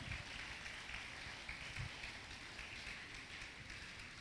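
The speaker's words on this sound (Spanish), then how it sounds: "Dele palmas al Señor." A church congregation claps together in a steady, faint, distant patter of applause that fills the whole stretch, with no voices over it.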